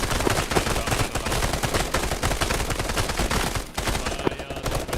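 Sustained, dense gunfire from an ArmA 3 battle: rapid overlapping shots and bursts crackle loudly and continuously, with a brief lull near the end before the firing resumes.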